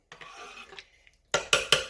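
Potato cheese soup being dished up onto a plate: soft scraping and stirring of a utensil, then three sharp, loud clinks of a ladle or spoon against dishware near the end, with no talk.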